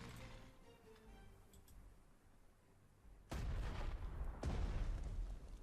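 Artillery fire in the Panzer Strategy war game: after a quiet stretch with faint ticking, two heavy booming blasts land close together and leave a loud rumbling roar behind them.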